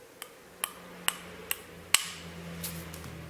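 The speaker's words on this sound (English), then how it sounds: "And give it just a very light tap with the hammer." Light hammer taps seating a new fuel injector microfilter during an injector rebuild, five small sharp metallic ticks spaced about half a second apart, close and clear, with a slight ringing after the last and strongest tap.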